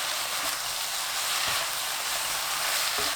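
Eggplant in sauce with chili flakes is stir-fried in a hot pan, giving a steady, loud sizzling hiss throughout. A few faint utensil taps sound beneath it.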